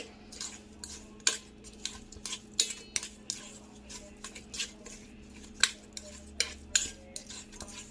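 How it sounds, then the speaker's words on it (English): Utensil stirring a rice mixture in a bowl for oven-baked coconut rice, a close series of irregular clinks and scrapes against the dish over a low steady background hum, no talk. "give it a stir"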